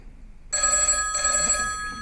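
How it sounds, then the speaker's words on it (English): A telephone bell rings out abruptly after a short quiet pause, a bright metallic trill that briefly dips and then continues ringing loudly and clearly, with no voices over it. "The phone rang."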